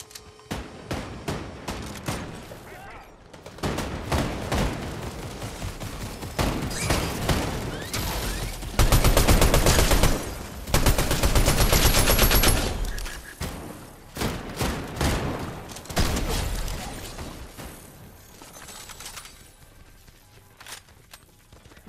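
Turret gunfire in the video game Fortnite, heard as loud, sustained automatic bursts with dense rapid shots and thuds, swelling and easing over about twenty seconds.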